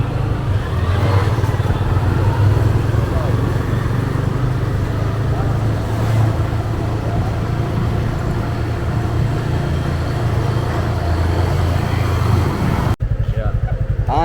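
A motorcycle climbs a steep favela hill with a continuous, close engine drone and rumbling road and wind noise, steady throughout before cutting off abruptly near the end.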